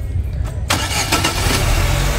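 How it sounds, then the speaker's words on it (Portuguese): A used car's 1.4-litre four-cylinder engine cranks briefly and catches, then settles into a steady, fairly quiet idle, heard up close at an outdoor used-car fair. "Pedi para que o amigo desse partida aqui no motor para a gente poder observar."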